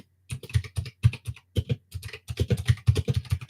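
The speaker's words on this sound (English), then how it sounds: "My keyboard is so loud and it's right next to my microphone, which picks up everything" A loud computer keyboard sitting right beside a microphone, typed on in quick irregular bursts of sharp, close clicks with short pauses between flurries.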